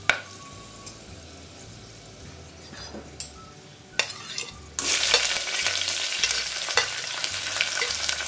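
Onion frying in a pan with green and red chilies for chana pulao, starting quiet with a few utensil clinks before a loud, steady close sizzle takes over as ingredients hit the hot oil.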